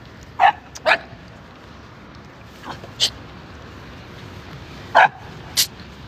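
A dog barks at people in short, sharp, separate yaps, a handful spread over several seconds, fairly close against a quiet background.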